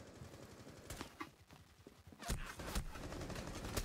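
Gunfire in the video game Rainbow Six Siege: faint, scattered sharp shots against low background noise, ending in a few closer bursts.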